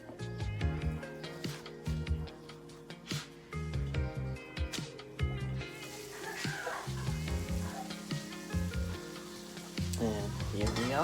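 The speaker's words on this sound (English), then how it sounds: "And here we are, fried potatoes." Home-style potatoes fry in a pan beside ham steaks, a loud, continuous sizzle with bursts of crackling and occasional stirring scrapes, with no talk.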